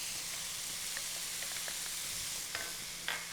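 Garlic and spices are stirred into sizzling vegetables for Cajun dirty rice, making a soft, steady frying hiss with faint spoon scrapes and clinks, quiet and close, with no talking.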